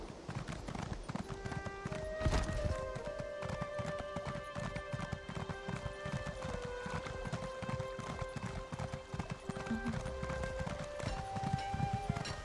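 Horse hooves clip-clop at a steady trotting rhythm in the Elder Scrolls Online video game, continuous and fairly close, layered over sustained background music tones.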